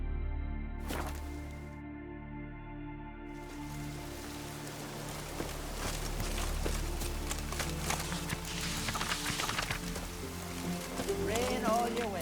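Rain pattering in The Witcher 3: Wild Hunt, a steady soft hiss of drops over game music, with horse hooves clip-clopping underneath as the rider travels, and a voice speaking briefly.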